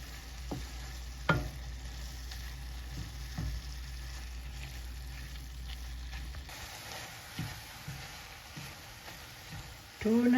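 Tuna and carrot sizzle in a frying pan while being stirred, a steady frying hiss with scraping and knocking of the utensil throughout and a brief low thump at the end.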